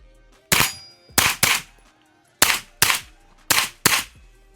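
Six suppressed shots from a model 995 rifle fitted with a BOE Incolite 9S suppressor, sharp loud cracks in uneven pairs with short ringing tails, after a quiet start and gap, close to the listener with no talk.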